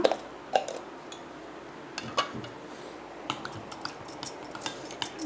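Banana, milk and honey are stirred together in a bowl, with faint scattered clinks and scrapes of a utensil against the dish under a low background hum, no talk.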